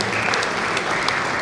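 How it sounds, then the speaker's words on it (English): An audience applauds at a bar association law week event in Benin, a steady, loud wash of many hands clapping that fills the brief moment without any voices on top. "Please, let's put our hands together for him."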